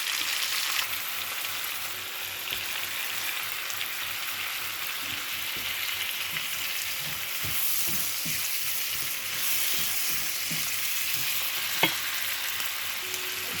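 Squash sizzles as it is stir-fried in a pan, a steady close frying hiss with occasional utensil clicks and scrapes.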